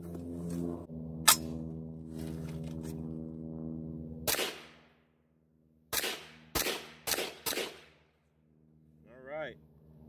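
A 12.5-inch AR-10 .308 pistol fires in snow, sharp loud shots: one early, one around four seconds, then a quick cluster of four, each ringing out against a steady low hum, with a voice speaking briefly.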